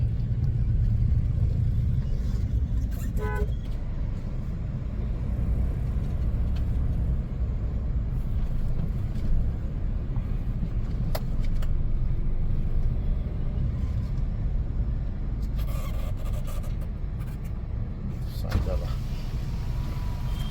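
A steady low engine rumble of a car on the move continues throughout, with occasional faint clicks and a voice speaking quietly over it.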